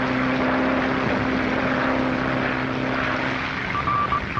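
A propeller airplane flying through heavy storms over the Atlantic Ocean in a 1937 film gives a loud, steady, droning engine roar that holds throughout with a slight waver near the end.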